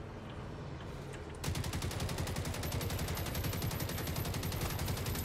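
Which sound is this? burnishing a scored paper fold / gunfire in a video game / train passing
gunfire in a video game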